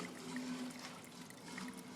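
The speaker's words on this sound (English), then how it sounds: "Basically rinsing the grains with the new water, with the hot water." Hot water pours and trickles through a bed of malted grains during a homebrew sparge, a soft continuous watery wash for about two seconds with no speech.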